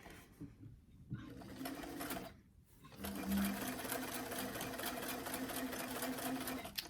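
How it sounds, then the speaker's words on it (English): A sewing machine stitches a 1/4 inch seam on a doll dress with stitch length around 2.5 to 3, running in a short burst and then a longer steady whir, close and clear. "you can go ahead and sew it without. we're going to use that 1/4 inch seam"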